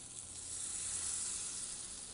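Garlic sizzles in soy butter in a pan with a steady, bright, hissing frying sound. It holds at an even level for the whole moment, with no talking.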